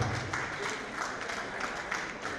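Distant, soft applause from an audience, a steady patter of clapping with no speech.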